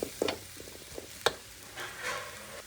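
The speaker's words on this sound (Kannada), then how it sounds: "ಸೊ ನೀವು ನೋಡ್ತಿರ್ಬೋದು ಕಾಯಿ ಚೆನ್ನಾಗಿ ಫ್ರೈ ಆಗಿದೆ" Grated coconut fries in a pan on a low flame for rava laddu, with a few close scraping stirs over a soft, quiet sizzle.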